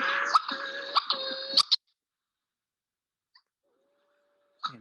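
Hawaiian petrel (ua'u) calling in a recording: a loud burst of harsh, repeated wailing notes for under two seconds, then near silence with a faint thin tone and a brief final note.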